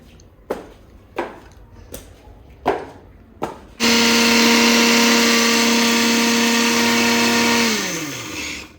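Electric blender grinding a spice mix for mutton shami kebabs: several sharp clicks and taps, then a loud, steady motor whir that runs for a few seconds before winding down.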